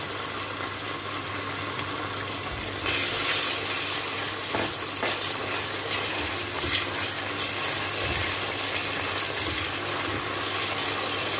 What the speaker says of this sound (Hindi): इसको हम तकरीबन 2 मिनट तक भूनेंगे।